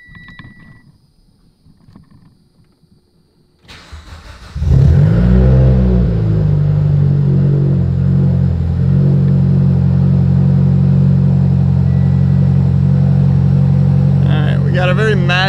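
A Mitsubishi Lancer Evo X engine, long abandoned, cranks briefly, then catches and settles into a loud, steady idle that runs on without a break after a few quiet rustles.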